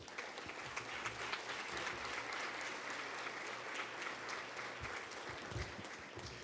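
Applause during a formal human rights award session, sustained and even clapping from a seated crowd, somewhat distant and soft, with a low hum underneath.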